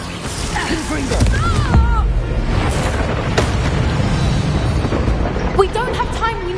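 A Confringo blasting spell explodes in Hogwarts Legacy, a loud, rumbling blast with crackling debris and swirling magical effects. Voices sound briefly amid the battle noise.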